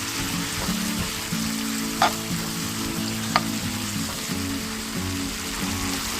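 Escabeche is stirred in a hot pan just after vinegar goes in, giving a continuous close sizzle with scraping utensil strokes and a couple of sharp clinks.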